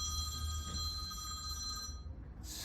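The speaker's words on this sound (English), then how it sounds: "Is that my phone?" A phone rings faintly in a room, a steady electronic tone that goes on for about two seconds before it stops, with no voices.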